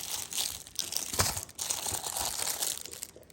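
Plastic book covers crinkle and rustle as they are handled, a continuous close crackling with brief pauses and no talk over it.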